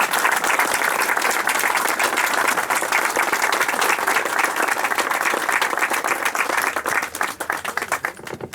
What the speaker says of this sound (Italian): Fate un applauso a De Berti.